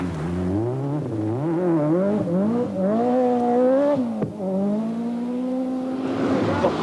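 Group A Mazda rally car racing on a stage of the 1986 Lombard RAC Rally, its engine revving hard through rising and falling gear changes, loud and close throughout.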